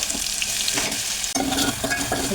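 Green chillies frying in hot oil in a pot, giving a steady crackling sizzle close by with stirring scrapes, briefly dipping midway before the sizzle resumes.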